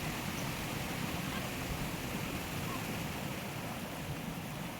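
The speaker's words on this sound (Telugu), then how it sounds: "ఆ గలగల జాలువారే జలపాతం" Water tumbling down a scenic waterfall, a steady broadband rush and gurgle that holds constant throughout with no breaks, heard alone without voices.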